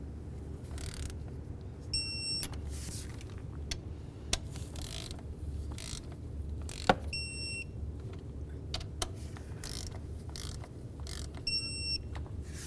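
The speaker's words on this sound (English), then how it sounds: "let's go ahead and torque these to 97 inch-pounds." Thermostat housing bolts on a 2006-10 Ford Explorer being torqued to 97 inch-pounds with a wrench, giving faint mechanical clicks and creaks over steady background noise, with a few short high beeps repeating at intervals.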